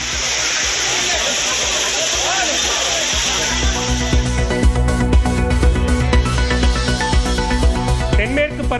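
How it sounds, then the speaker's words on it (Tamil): Water pouring steadily down the Courtallam waterfalls, a loud continuous rushing roar that later sits under a layer of music. "குற்றால அருவிகளில் சீரான நீர்வரத்து."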